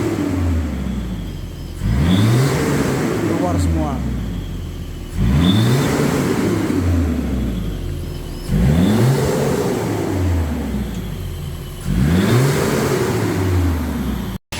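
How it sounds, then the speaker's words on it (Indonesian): A Toyota Kijang Krista engine idles steadily after a tune-up, its tone rising and falling in four smooth, regular cycles, even and unlabored throughout with no voices. "suara mesin jauh lebih halus, lebih teratur, karena ini kompresinya seperti mobil baru lagi."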